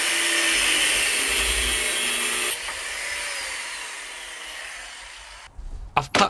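A power tool cuts a metal bar to size for an RX8 limited-slip differential, a loud steady whine that shifts pitch midway, fades, then ends in a few sharp clattering bursts.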